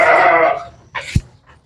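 A sheep gives one loud, close, wavering bleat in a pen at a farm, followed by a brief thump and a faint rustle.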